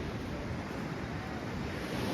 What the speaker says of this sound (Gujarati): અને આ છે દરિયા કિનારો અત્યારનો વ્યૂ